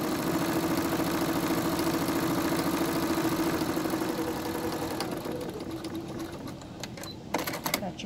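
A sewing machine stitches fabric side seams with a rapid, steady mechanical whir that runs continuously, then slows and stops, followed by a few sharp clicks at the end.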